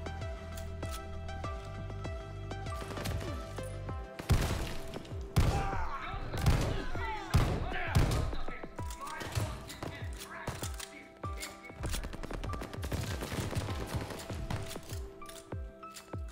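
Video game shotgun blasts boom out as a series of loud, sharp shots spaced a second or so apart, mixed with clanks and thuds over a steady background tone, with someone talking over parts.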